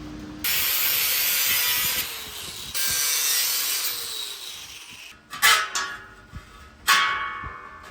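4.5 inch angle grinder with a cut-off disc slicing through a metal shelf bar: two long, loud, steady cutting passes, then several short bursts as the disc bites and lifts off, close by with no talking.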